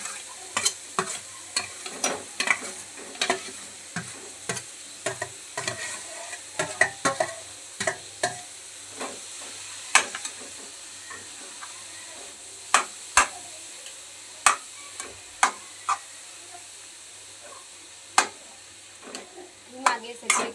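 Green and yellow capsicum with green and red cabbage stir-frying slowly over low gas for momo filling, a quiet steady sizzle under frequent sharp taps and scrapes of a utensil against the pan.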